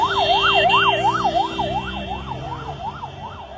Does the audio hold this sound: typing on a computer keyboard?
no